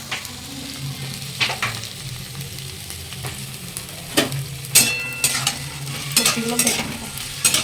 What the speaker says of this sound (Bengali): এদিকে সবজিগুলো ভেজে নিচ্ছি